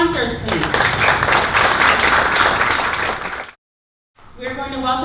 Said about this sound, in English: So round of applause for all of our sponsors, please.